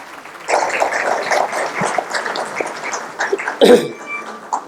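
Audience clapping welcomes a poet at an Urdu mushaira, a steady wash of applause from a crowd that swells, dips and briefly surges near the end.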